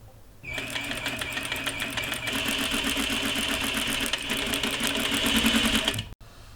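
A sewing machine stitches fabric for a scrunchie, a fast, even mechanical whir with rapid needle ticking that runs steadily for several seconds close by, then stops abruptly.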